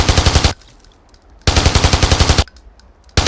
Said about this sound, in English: Press the fire key to fire the machine gun.